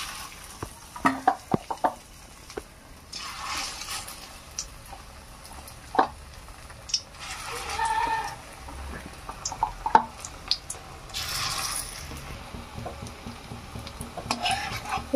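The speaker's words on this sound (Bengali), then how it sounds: "এই বড়াগুলোকেও ভেজে নেব" Egg and gram flour fritters frying in oil in a wok, a soft sizzle broken by scattered clinks and spatula taps, fairly quiet with no talking.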